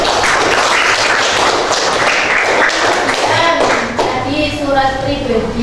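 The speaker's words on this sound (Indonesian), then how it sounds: "Beri tepuk tangan untuk dia." Classroom clapping for a participant, a burst of hand claps from several people mixed with children's voices and chatter, close and fairly loud.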